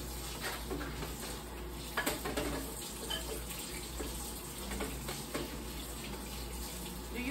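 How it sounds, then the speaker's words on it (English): Tap water runs steadily into a sink while a cutting board is washed in a home kitchen, a constant rushing wash with small clatters, and no talking. "Washing off the cutting board."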